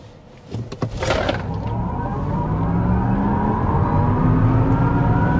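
A 2025 Chevy Blazer EV SS electric car accelerating hard at maximum power, a rising electric whine and road roar that swell quickly and hold steady and loud, with a few brief clunks at the start.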